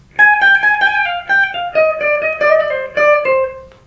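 An electric guitar plays a phrase from a guitar solo: a short run of clean, sustained single notes, fairly loud, that descends toward a final held tone.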